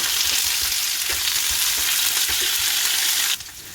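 Onion and curry leaves frying in hot oil for a green chilli egg fry, a loud, close, steady sizzle with faint stirring taps, dropping off abruptly at the end.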